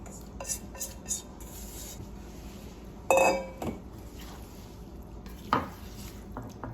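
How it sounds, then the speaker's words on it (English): A spoon clinks and scrapes against a pan while fig mixture is stirred into caramelized onions, a few sharp metallic taps over a soft, steady background of quiet stirring. "Now we're going to stir our fig mixture into the onions and thoroughly combine them."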